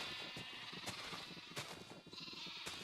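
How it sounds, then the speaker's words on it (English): Sheep in the video game Minecraft bleat repeatedly, several overlapping bleats at close range in an ongoing, irregular series with no speech. "Yeah, I'm surrounded by sheep now."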